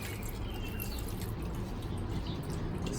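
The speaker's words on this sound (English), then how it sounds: "So I'm just kind of Watering all across here" Water splashes and patters steadily onto garden plants, lavender among them, on an urban rooftop, a continuous close spray with no voices.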